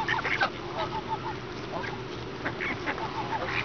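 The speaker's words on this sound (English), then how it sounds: "Here come the big guys, the big geese." Geese honking repeatedly in a lively, overlapping chorus of harsh calls as a hungry flock approaches, moderately close and continuous with no clear talking.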